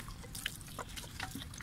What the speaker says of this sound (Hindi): इसको वाटरिंग कर देंगे